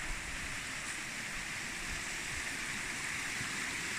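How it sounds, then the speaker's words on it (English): A small waterfall among a series of little cascades near a bridge, a steady close rush of flowing water that fills the whole stretch evenly. "And there we have the other waterfall."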